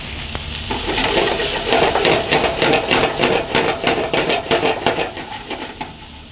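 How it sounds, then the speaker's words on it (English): Peppers and onions sautéing in olive oil in a hot pan, a loud close sizzle with rhythmic scraping strokes of a utensil stirring them about every half second, no voices. "So we've sauteed our onions and our pepper."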